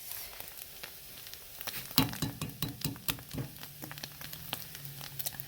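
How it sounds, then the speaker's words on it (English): Eggs drop into chorizo frying in a pan, a loud hiss rising and then settling into a steady crackling sizzle with small pops, close and without talk. "So I'm going to go ahead and add my eggs."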